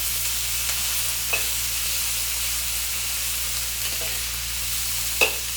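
Spicy cumin lamb pieces sear with a steady sizzle in a hot pan, with a few soft scrapes and taps as the pieces are turned over.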